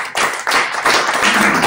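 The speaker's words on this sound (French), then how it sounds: "fait par Geoffrey Boulakia et Fabien Andro, que j'invite à nous rejoindre sur scène sous vos applaudissements." Audience applause at a French marketing breakfast event as two presenters are invited onto the stage, a dense, steady patter of many hands clapping throughout, with surges at the start.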